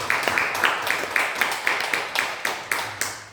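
A church congregation claps together during Sunday service announcements, a steady rhythm of about a dozen sharp claps spread evenly over a few seconds, close and moderately loud, with no voices over it.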